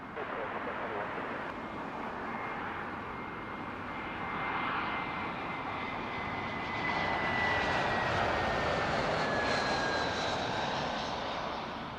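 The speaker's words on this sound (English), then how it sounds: "British Airways 547, this one an A320-200, inbound from Rome." A British Airways Airbus A320-200 jet inbound from Rome comes in to land at Heathrow on a calm evening, its steady engine roar swelling and growing louder over twelve seconds, with a thin whine riding on top and a voice talking over it.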